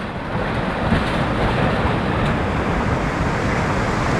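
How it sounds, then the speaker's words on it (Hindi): Fast, heavy flood water rushes past in a Tibetan colony in Kullu, Himachal Pradesh, during continuous heavy rain, forming a loud, steady, broadband roar that fills the whole moment without a break. "अब देखो वहाँ से देखो कितना तेज आ रहा है पानी"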